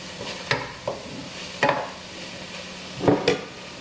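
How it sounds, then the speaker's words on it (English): A spoon stirs chili powder and salt into black bean soup in a pot. There are three or four brief scraping swirls against the pot, spaced apart over a faint steady background. "Stir that around."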